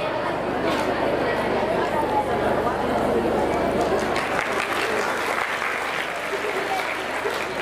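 An audience at a birth anniversary ceremony for Karmaveer Bhaurao Patil claps loudly and continuously, a thick wash of applause mixed with crowd chatter and voices.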